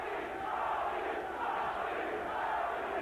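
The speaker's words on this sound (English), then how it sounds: "The crowd cheering, chanting, Tony, Tony, Tony, trying to get him fired up." A boxing crowd roars and chants a fighter's name, a dense, steady wall of voices heard from a distance, holding level for a few seconds.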